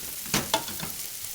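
Cooked ingredients for a bay shrimp seafood chowder are mashed in a pot, giving two soft, quick knocks followed by faint scraping, close and quiet.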